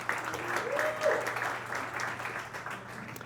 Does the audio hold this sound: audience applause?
yes